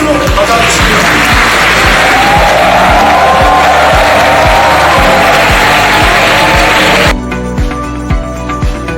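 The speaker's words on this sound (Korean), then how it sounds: "거대한 뜨거운 환영의 박수로 맞아주십니다" Big crowd at a presidential lecture for newly appointed civil-service officers, with loud sustained applause and cheering that fills most of the clip and then drops off abruptly near the end.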